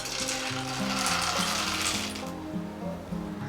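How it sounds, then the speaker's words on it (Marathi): Peanuts frying in hot oil on medium flame, a steady close sizzle and crackle with faint stirring clinks running throughout. "आता सर्वात आधी आपण शेंगदाणे तळून घेणार आहोत"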